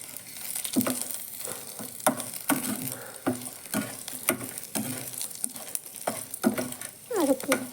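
Dry red chillies roasting in a hot pan with radish, a steady crackling sizzle broken by repeated scraping and stirring knocks, close and fairly loud throughout.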